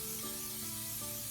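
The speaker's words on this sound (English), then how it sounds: "Okay, use some cooking spray." Cooking spray hisses from an aerosol can onto a pan for beef jerky, a continuous close, bright hiss lasting over a second without pause.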